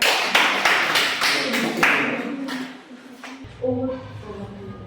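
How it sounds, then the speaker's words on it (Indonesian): Scattered hand claps from a small group at a teacher-training session, a handful of sharp claps in the first two seconds that thin out, followed by voices talking. "sekali lagi tepuk tangan ya"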